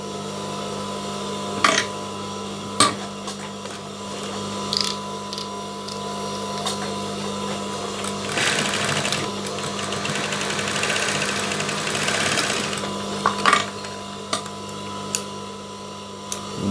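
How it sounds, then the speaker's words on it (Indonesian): Sewing machine stitching darts on a school skirt, a steady motor hum with bursts of rapid stitching and a few sharp clacks, close and continuous. "Jadi yang pertama kita lakukan adalah menjahit kupnatnya sesuai garis gambar."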